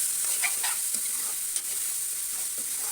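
Turmeric and ginger garlic paste stirred into a frying curry of tomato and dried prawns makes a steady, close sizzle with a few soft stirring scrapes and no voices.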